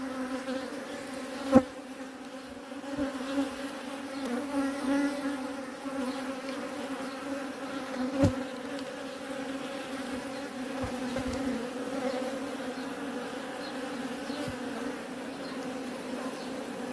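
Honeybees swarm and hum steadily around a beehive during a lean season with no nectar flow, a dense continuous buzz with a few sharp knocks, close and alone without talk.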